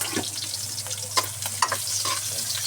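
Food sizzles and fries in a pan while being stirred, scraping strokes and clacks sounding irregularly over a constant crackle, with no talking.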